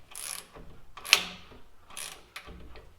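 A hand ratchet tightens a nut on the rear block lift of a third-generation Toyota Tacoma, giving short bursts of clicking strokes up close, with no talking.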